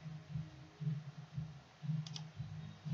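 Mouse clicks on a computer while a PSN card is bought online, a faint pair of sharp clicks standing out against a quiet, rhythmic low rumble.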